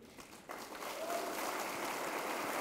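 Audience applause from a student gathering at a science festival in Lucknow, starting faintly then swelling after half a second into steady, dense clapping that holds for a couple of seconds.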